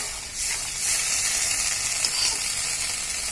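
Water poured onto spice masala in a hot kadai sets off a loud, steady sizzle that hisses continuously, with faint stirring scrapes and no voices.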